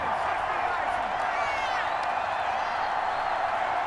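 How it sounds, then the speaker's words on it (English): A stadium crowd roars in Madden NFL 21 after a big play, a steady loud wash of cheering that holds through the whole stretch. "A big-time play that gets a roar from this crowd"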